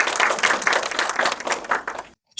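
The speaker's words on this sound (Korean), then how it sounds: "여러분들의 박수로 시작해 보도록 하겠습니다" At a screening and audience talk for a climate documentary in Daegu, the audience breaks into brisk, lively clapping for about two seconds before it cuts off abruptly into silence.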